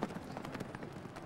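Police horses' hooves clip-clopping on a Buenos Aires street, a steady run of quick, moderately close hoof strikes over a busy low background hum.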